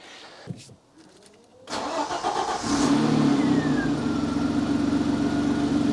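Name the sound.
car engine starting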